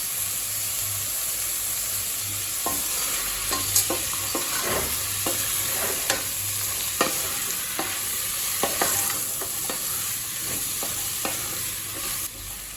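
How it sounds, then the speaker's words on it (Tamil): Mixed vegetables with peas, capsicum and potato sautéing in a pan for vegetable rice, a constant dense sizzle broken by regular sharp spatula taps and scrapes against the pan, close and steady, no talking. "எல்லா காயும் சேர்த்துட்டு நல்லா வதக்கியாச்சுங்க."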